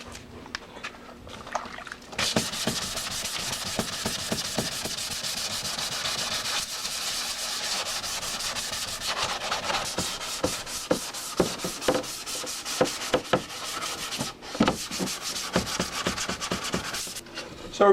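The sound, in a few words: wet sanding with sandpaper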